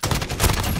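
A burst of shotgun fire with incendiary rounds in Call of Duty Modern Warfare, a loud, close, dense crackle of rapid blasts packed into under a second.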